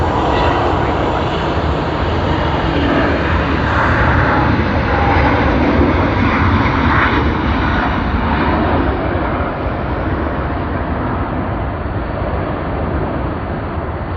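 A China Southern Airlines jet departs Sydney Airport with a loud, sustained engine roar that fills the whole stretch, steady and broad and slowly fading in its upper edge as it climbs away.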